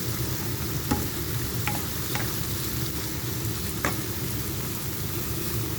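Eggplant frying in a pan while being stirred over and over, a steady close sizzle with a few sharp utensil scrapes and clicks scattered through.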